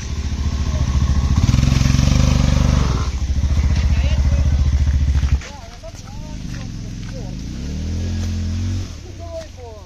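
A motorcycle engine labours loudly on a hill road, revving strongly before dropping to a lower idle-like drone, with people talking over it.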